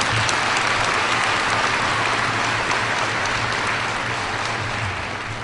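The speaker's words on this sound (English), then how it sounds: "And I'd like you to give them a nice round of applause as well." At a fall commencement ceremony, a large crowd applauds steadily and loudly for the honorees, a thick wash of clapping with a low hum beneath that eases slightly toward the end.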